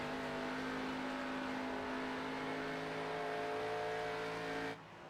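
A race car at Pocono in a sim racing game drones with a steady, sustained engine whine at high revs, fairly constant in pitch, before the sound drops off abruptly near the end.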